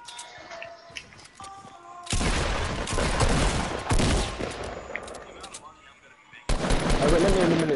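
Video game gunfire in Fortnite, with sustained bursts of loud rapid shots from a pistol and other weapons, continuous for stretches with brief gaps and a fresh burst near the end, while people talk over it.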